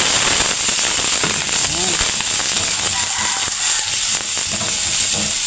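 Loud, continuous crackling sizzle as garlic and onion hit hot oil in a pan for menudo, with a voice speaking briefly over the frying.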